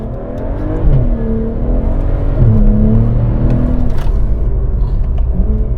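A stage 3 tuned BMW 135i engine revs repeatedly, rising and falling in pitch with a loud, steady rumble close by, with no talking.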